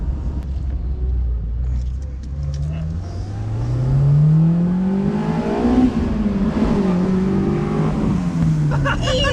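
A Honda S2000 engine revs up hard, its pitch sweeping steadily higher over several seconds to 7,000 RPM, a loud, sustained high-rev roar, then easing slightly.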